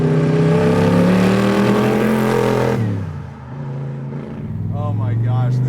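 A Superformance Shelby Daytona Coupe's engine revs loud and close, holding a steady high note before dropping off and building again, with people talking and laughing over it.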